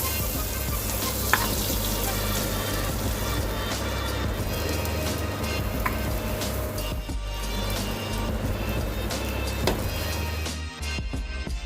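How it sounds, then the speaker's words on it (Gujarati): Veg frankie roll frying in butter on a pan, a steady close sizzle with crackling pops running continuously, no voices. "હવે આપણે ફ્રેન્કીને બટરની અંદર શેકી લઈશું."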